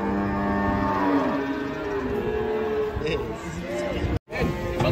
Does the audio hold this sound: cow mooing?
yes